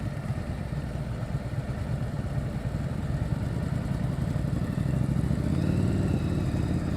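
A motorcycle rolls along at slow speed during a riding-skills practice session in Georgia, its engine a steady low rumble with a slight rise near the end. No one speaks.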